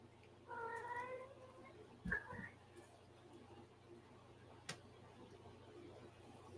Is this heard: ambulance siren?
no